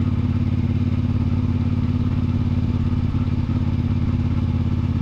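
A CFMoto 450MT motorcycle engine runs in third gear near idle with a steady, dense, low-pitched drone and faint rhythmic knocking, loud and constant throughout, with no speech.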